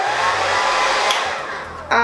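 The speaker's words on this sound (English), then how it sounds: "All right, so I'm going to use my diffuser." A hair dryer fitted with a diffuser, set to high heat while drying short curly hair, blows a steady, loud, close whoosh that dips slightly near the end before surging back with a harsher tone.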